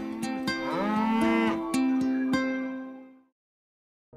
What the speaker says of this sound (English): great milk comes from cows that graze free.